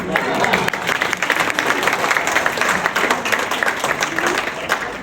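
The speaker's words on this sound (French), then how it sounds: "J'aimerais qu'on applaudisse les camarades de Corrèze." A crowd at a French political campaign meeting applauds party comrades from Corrèze, giving steady, dense clapping that holds evenly loud for several seconds.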